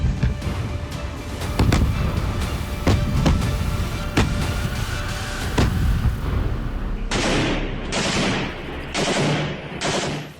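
Russian tanks and artillery firing in Popasna: repeated heavy blasts and gunfire bursts at irregular intervals over a rumbling battlefield background, with several sharp, loud reports near the end.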